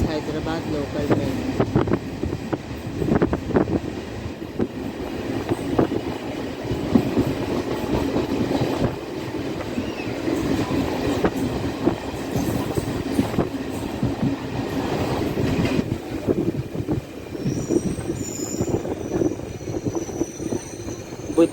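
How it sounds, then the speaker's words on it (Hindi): A Hyderabad local DEMU train runs on the rails, with a steady rumble from inside the carriage, rhythmic wheel clatter and occasional squeals, and people talking throughout. "This is Hyderabad local train."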